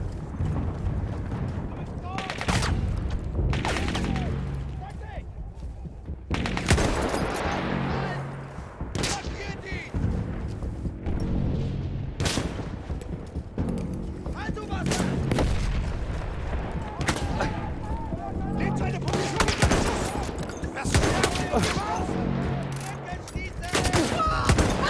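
Battlefield 1 battle with repeated gunfire, machine-gun bursts and heavy shelling, dense and loud throughout, with a voice speaking over parts of the barrage.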